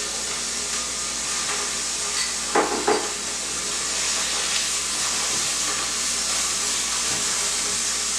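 Thai yellow curry spice blend toasting in a hot pan with chicken pieces, a steady broadband sizzle and hiss with a couple of brief louder crackles early on, close and continuous, no talking.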